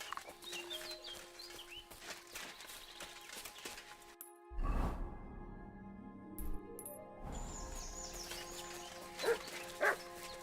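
A dog barks inside a medieval village scene in Kingdom Come Deliverance 2, with chickens and ambient bird calls around it. A short quiet break comes before two or three distinct barks near the end.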